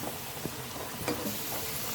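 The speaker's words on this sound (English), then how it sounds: "Now the potatoes are frying" Steady sizzling and crackling of potatoes frying in hot oil, a continuous close hiss with a few small pops.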